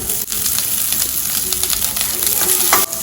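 Small shallots sauté in a pan with ginger and garlic for a lady's finger pulao, giving a constant close sizzle and crackle with faint stirring clicks throughout.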